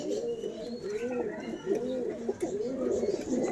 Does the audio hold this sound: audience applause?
no